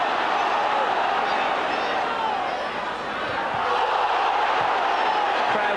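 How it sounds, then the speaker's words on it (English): A packed football stadium crowd at Leeds v Stuttgart in the Champions League screams and roars continuously in the closing minutes, a loud, dense wall of voices swelling as the ball nears the penalty box. "Crowd screaming for everything now every time the ball goes into the penalty box."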